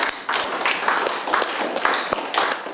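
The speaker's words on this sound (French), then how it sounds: "on peut l'applaudir" Schoolchildren in a French classroom applaud a pupil, a dense patter of many small hands clapping steadily for a few seconds, close and lively, with no one speaking.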